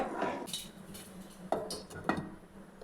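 A metal lid clinks and clatters onto a pot of North Indian potato gravy, several light knocks of metal on metal, close by in a quiet kitchen.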